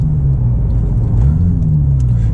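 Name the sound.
Porsche 996 GT2 exhaust rumble while driving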